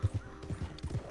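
Horse hooves clip-clop in a quick, steady rhythm in the Red Dead Redemption 2 video game, several distinct thuds in about a second, fairly soft and close, with no talk.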